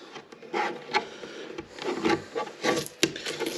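Masking tape peeled off the freshly painted bodywork of a Vauxhall Mokka, a series of short close rasping tearing strips with brief pauses between pulls, fairly quiet and with no talking.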